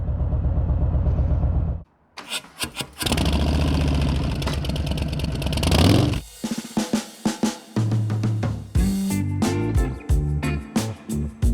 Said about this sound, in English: I'm idling right now, and it sounds different.